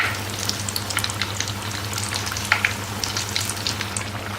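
Raw banana bajji fry in hot oil with a continuous close crackling sizzle, a dense spatter of tiny pops over a low steady hum.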